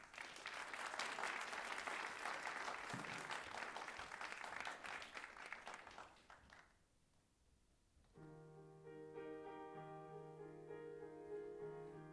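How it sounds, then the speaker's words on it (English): Concert audience applauding a choir at Rhapsody Rotorua 2019, a dense, steady clapping that fills the hall for about six seconds, then fades out and gives way to sustained sung or instrumental tones. "Please give them a round of applause."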